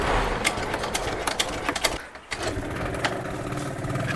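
A scooter engine, started after standing unused for over a year with a weak battery, idles evenly with a steady rapid putter and a few louder pops, close and alone.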